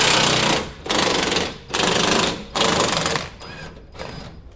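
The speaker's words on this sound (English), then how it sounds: "So now we're taking off the bolts on the actual hangers themselves to the frame." An impact wrench buzzes loudly in several long bursts while removing the shackle hanger bolts from the frame of a third-generation Toyota Tacoma, each burst separated by short pauses before fading quieter near the end.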